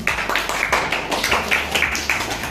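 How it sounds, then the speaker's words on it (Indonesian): A small audience claps at the close of a classroom presentation, several sharp overlapping hand claps in an uneven rhythm, fairly close and moderately loud, with no talking. "Kita beri tepuk tangan."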